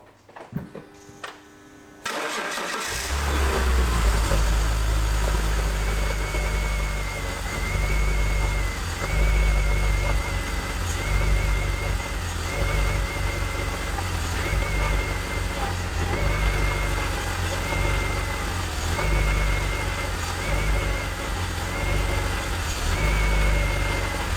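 A BMW E46 engine cranks briefly and catches, then settles into a loud, steady idle close by with a faint whine over the rumble, and no talk over it.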